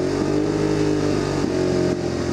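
A car engine revs up and holds a steady, loud mid-pitched drone for a couple of seconds while the charging system is checked for an electrical fault, with no talk over it.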